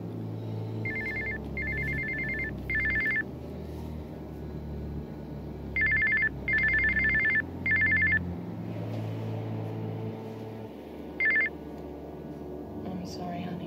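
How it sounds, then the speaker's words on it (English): A mobile phone rings in bursts of bright electronic tones, three short rings, a pause, then three more and a final brief one, sounding over a steady low background hum. "That's my phone."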